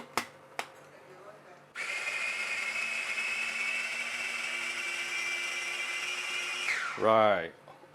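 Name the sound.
blender running, blending ingredients for assam fish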